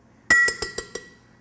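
A metal spoon clinks against a glass blender jar five times in a quick, evenly spaced run while avocado flesh is scooped in. Each strike rings bright and close, and no voices are heard.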